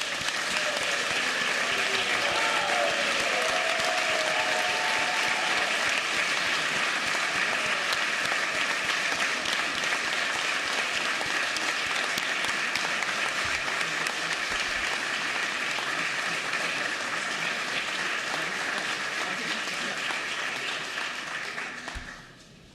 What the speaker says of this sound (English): Please offer a congratulatory round of applause to the Spartan Legion.